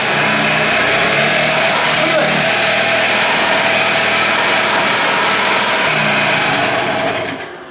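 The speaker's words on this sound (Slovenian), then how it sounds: "motor se ne zvrti, nima nobene moči, daš gas, ne potegne" A Gilera Runner scooter engine runs weakly with no power, a steady thin buzzing drone holding nearly unchanged throughout, close and loud, before fading at the end.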